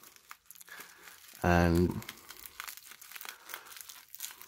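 Crinkly packaging around vintage fountain pens rustles close by in short crackling bursts, with one loud sharp crumple in the middle, while someone talks throughout.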